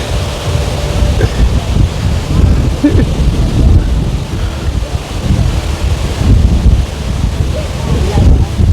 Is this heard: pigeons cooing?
no